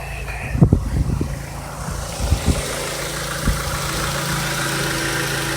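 A running Honda car engine idles in a steady low hum, with a few low thumps and knocks early on before it settles into an even drone, close by and alone.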